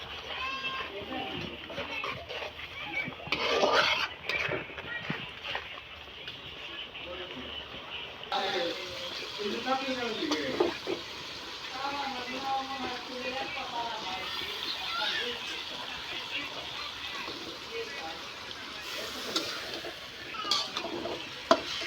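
Vegetables such as taro root and green banana fry with salt and spices in a pan, giving a soft, steady sizzle broken by scraping stirs, while someone talks over the cooking.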